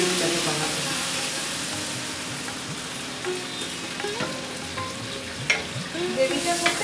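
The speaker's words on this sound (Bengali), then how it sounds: "এবার আমরা জল দিয়ে গ্রেভিটাকে বানাবো।" Water poured into a pan of softened, cooked tomatoes for tomato fish gravy, giving a steady close sizzle and bubbling with scattered stirring clinks and a few sharper splashes near the end.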